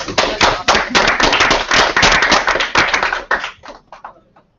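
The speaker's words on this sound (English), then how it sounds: "I just want to, like, applaud you." A room of people clapping, brisk sharp handclaps that run strongly for about three seconds and then thin out to a few scattered claps before stopping.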